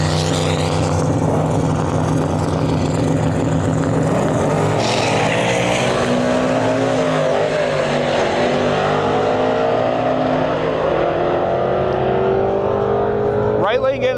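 Drag race cars launch and roar down the track at an outdoor drag strip, loud sustained engine wail rising and fading as they run, with crowd and voices in the background.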